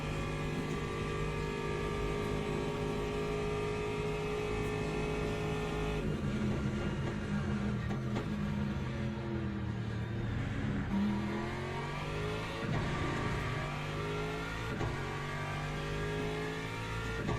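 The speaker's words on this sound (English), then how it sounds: "Just trying to be patient there with those hypercars coming through." Hypercars in the Le Mans Ultimate racing game at Fuji roaring past, a continuous loud engine drone with shifting revs and pitch sweeps as faster cars come through, no talking.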